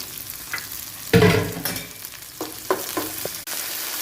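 Onion and garlic hit hot oil in a pan with a sudden loud sizzle, then settle into softer frying crackle punctuated by a few stirring scrapes and taps, close up with no talking.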